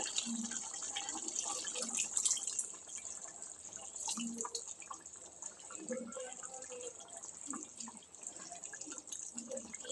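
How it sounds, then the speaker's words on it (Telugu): Soaked tamarind water is poured into a stuffed eggplant curry in a home kitchen, a quiet liquid trickle with scattered drips and splashes that runs on and off at low volume. "ఇప్పుడైతే చింతపండు నీళ్ళు"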